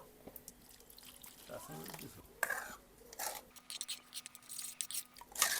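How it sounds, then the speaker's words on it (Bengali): Cumin, chili powder and turmeric being stirred into water for a hilsa fish curry, with soft sloshing and clinking bursts and faint running water, a voice talking between the stirring. "এখন এই জলে মশলাটা গুলে নেব"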